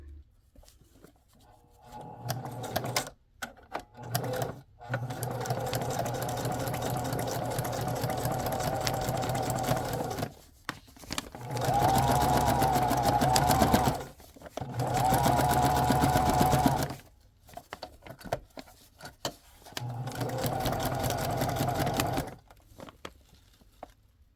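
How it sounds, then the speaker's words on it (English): Sewing machine running a zigzag stitch through fabric and lace for an upcycled handmade journal, in several steady bursts of whirring separated by short pauses, close and alone with no talking. "I'm doing the inside first, so I'm going to sew this one with you real fast"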